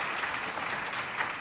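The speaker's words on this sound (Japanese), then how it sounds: "盛大な拍手をお願いいたします。" Applause from an audience at a lecture at the University of Tokyo, a steady, fairly soft wash of many hands clapping with no talk over it.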